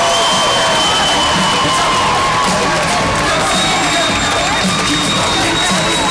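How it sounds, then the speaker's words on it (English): A loud arena crowd at an England basketball event applauds, cheers and whoops, producing a continuous, close wall of clapping and shouting with no quiet gaps. "huge round of applause, please, for Kurt Thomas."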